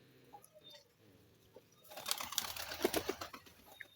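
Pigeons in a second coop of a pigeon-keeping setup, with a busy close-range mix of soft coos, rustling and scattered wing flaps that swell in the latter half.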